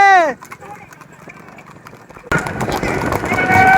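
Many horses running along a road, a steady clatter of hooves that grows much louder and denser partway through, under loud talk and crowd noise.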